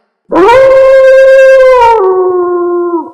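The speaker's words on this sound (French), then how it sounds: "Il poussa un hurlement qu'on entendit à des kilomètres à la ronde" A wolf's loud, close howl of pain, used as a story sound effect in the Three Little Pigs tale: one long sustained wail that drops in pitch partway through, with no voices.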